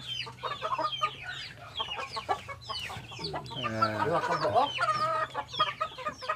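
Chickens cluck repeatedly close by, with a longer drawn-out call midway and a steady low hum in the background.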